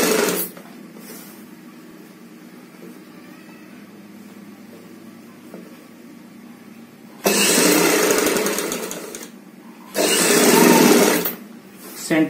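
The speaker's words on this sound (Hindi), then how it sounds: "हम आगे की साइड सिलाई लगाएंगे।" Sewing machine stitching the front side of a ladies' coat collar for a kurti or suit, two loud close bursts of steady whirring, the second ending with a brief restart, between stretches of quiet room hum.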